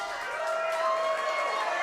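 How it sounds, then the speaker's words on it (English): Crowd cheering fills an arena in a wrestling video game, a steady roar of spectators throughout with no break. "And this crowd is loving it"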